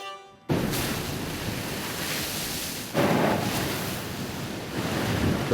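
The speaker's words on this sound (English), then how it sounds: "The foamy waves of the Caribbean Sea break over magnificent cliffs on the neighboring island of Antigua." Foamy Caribbean Sea waves break against cliffs on Antigua, a loud, steady roar of surf mixed with wind buffeting, swelling again partway through after a brief quiet opening.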